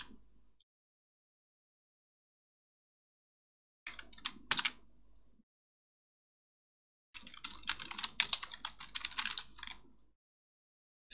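Typing on a computer keyboard comes in short bursts of quick, close key clicks separated by silent pauses.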